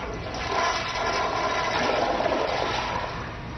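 A toilet flushes in a steady rushing surge of water lasting a few seconds, fairly loud and close, with no talk over it.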